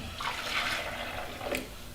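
Liquid is poured for collagen tea in a steady, close splashing stream lasting about two seconds, with no talking over it.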